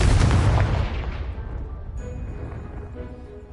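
A Confringo blasting spell detonates in the Hogwarts Legacy video game, a loud booming explosion up front that rolls off into a long fading rumble with faint game ambience beneath.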